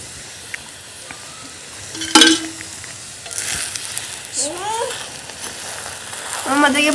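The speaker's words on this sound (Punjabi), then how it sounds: "ਸਪੈਸ਼ਲ ਕੇਕ ਤਲ ਕੇ ਬਣਾ ਰਹੇ ਜੀ" A special paratha fries in a pan, giving a steady soft sizzle with a few brief louder bursts and a faint voice now and then.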